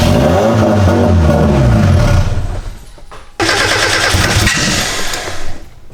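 A turbocharged Mazda Miata engine that is reluctant to run cranks and roars loudly up close, dips briefly to a rough sputter, then surges back to a harsh, loud rev.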